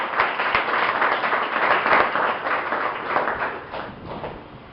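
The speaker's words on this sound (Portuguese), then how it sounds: "Pode aplaudir, aleluia." A church congregation applauds during a Portuguese-language sermon, a dense, steady wash of clapping from many hands that stays loud for several seconds and then tapers slightly toward the end.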